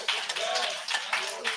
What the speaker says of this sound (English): Give our chief another hand clap.